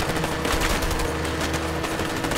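Dense, loud, continuous automatic gunfire from the video game A Way Out, a sustained barrage of rapid shots with no pause and no voices over it.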